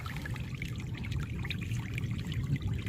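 Irrigation water mixed with herbicide trickles and flows through a cumin field, a soft continuous babbling and dribbling heard close by at low volume, with no voices.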